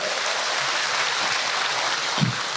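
Sustained applause from an audience at a majelis taklim gathering in Cilegon, a steady dense crackle of clapping filling the whole stretch, with a brief low thump near the end.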